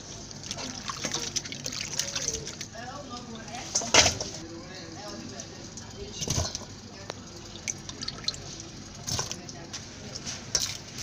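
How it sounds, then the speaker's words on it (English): Hand-washed cassava sloshing and trickling in water, with soft drips and occasional louder splashes and cracks spread irregularly through the clip, with a voice talking over it. "You need to add clean water and wash it out."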